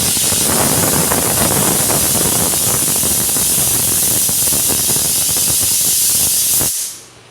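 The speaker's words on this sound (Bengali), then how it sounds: "মটরটা প্রথমে লবণ দিয়ে আর কাঁচা লঙ্কা দিয়ে সেদ্ধ করে নেবো প্রেশারে 10-12টা সিটি দিয়ে।" A pressure cooker hisses steadily while boiling peas with salt and green chillies, a loud continuous jet of steam that holds throughout and then cuts off abruptly near the end.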